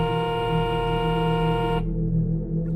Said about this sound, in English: A car horn started blaring from outside